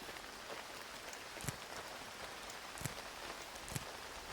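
Steady rain falling in the video game Retreat to Enen, a continuous soft hiss of drops on surfaces with a few sharper individual drips standing out, no talk over it.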